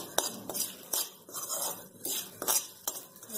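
A spoon stirs turmeric powder into fried poha chiwda in a pan, giving intermittent scraping clinks and soft rustles at a loose rhythm, close and fairly quiet.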